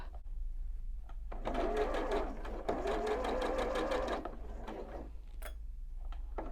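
A domestic sewing machine stitches a quarter-inch quilt seam through fabric half-square triangles, running steadily for about three seconds with a fast, even mechanical whir, starting and stopping cleanly against a quiet room.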